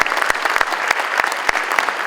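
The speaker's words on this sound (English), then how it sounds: "let's give them one more big round of applause" An audience gives a big round of applause at a mentoring event, a dense, steady clapping with individual sharp claps popping out throughout.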